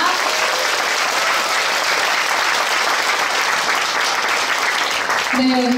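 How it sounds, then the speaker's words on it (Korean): A large audience applauds a company chairman at a lecture event, a loud, dense, continuous wash of clapping that fades out right at the end as a voice begins. "무한 감동 서정훈 회장님께 다시 한번 큰 박수 부탁드립니다"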